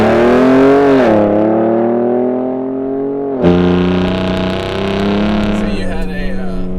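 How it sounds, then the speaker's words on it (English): A Hennessey VelociRaptor Stage 2 truck engine pulls hard through the gears from inside the cab, its loud harmonic roar rising in pitch, dropping at each shift and climbing again, with people talking over it. "First time driving the new truck?"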